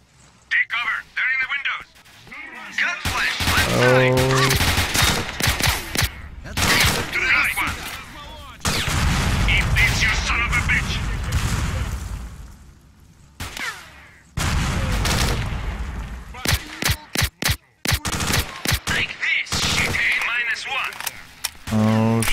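Gunfire in the video game STALKER: Shadow of Chernobyl crackles in dense bursts and single loud shots across a long firefight, with automatic volleys and brief lulls, while someone talks over parts of it.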